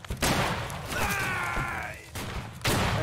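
Rifle gunfire in the Civil War game Battle Cry of Freedom sounds as a few heavy, booming shots from a firing line, loud and close, with a lingering rumble between volleys and no talk over it.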